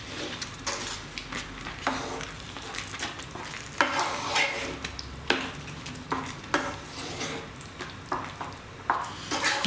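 A plant-based bolognese is stirred in a pan, a soft sizzle running under repeated scraping and clacking strokes of the spoon against the pan, close and fairly quiet.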